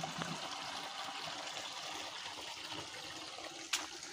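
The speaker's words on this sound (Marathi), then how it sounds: "बघा हे का कसा झाडांना पाणी देतोय तो" Water spraying onto trees in a village garden, a steady broadband hiss and trickle throughout with one brief splash near the end.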